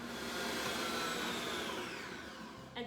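An electric mixer beats butter and sugar until creamy, a steady whirring motor drone held evenly and close, easing slightly toward the end before a brief rattle.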